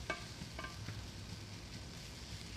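Sausage and kale cooking in a pan give a faint, steady sizzle, with a few soft stirring knocks, and no voices.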